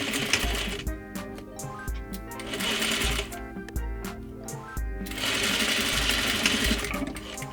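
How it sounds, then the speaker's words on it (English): Sewing machine stitching a 1/2 inch seam along the pinned short end of a trouser shield piece, running in steady bursts with brief pauses between, close and loud. "Sew along your pinned edge with 1/2 inch or 13 millimeter seam allowance."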